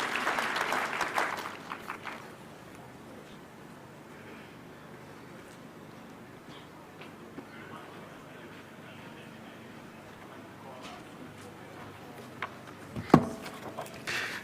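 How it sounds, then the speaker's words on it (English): Crowd applause at a Kenyan devolution conference in Eldoret, a burst of clapping at the start that fades into a long hush of room noise, with a sharp knock near the end. "Let's give him a clap."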